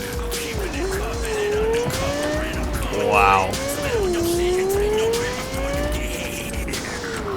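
A car in Cyberpunk 2077 driven hard, engine droning with shifting revs and a tire squeal rising in the middle, steady and fairly loud, while a player talks briefly over it.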